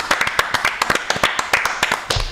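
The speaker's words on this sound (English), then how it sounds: "Round of applause for everyone involved" A small group of football show hosts clap together in a studio, a quick run of sharp, close hand claps in an uneven rhythm lasting only a couple of seconds.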